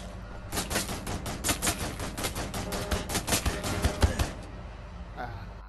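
Rapid bursts of gunfire in the video game Wolfenstein: The New Order crackle in dense, uneven volleys for several seconds, loud and close, then stop abruptly.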